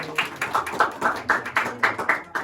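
A small audience claps after an Indonesian poetry reading, about a dozen distinct rhythmic claps in a steady, fairly close sequence, with no voices over them.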